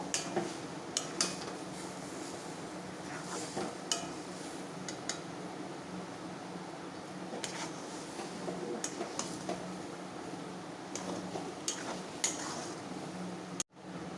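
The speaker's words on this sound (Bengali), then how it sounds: "সুজির মধ্যে জলটা দেবেন তো এখানে আমি আমার পরিমাণ মতো জলটা নিলাম এবার এটাকে ভালো করে মিক্সড করে নেব" Palm pulp and semolina batter is stirred with water in a bowl, with faint scattered clinks and scrapes of a utensil against the vessel and a sharp knock near the end.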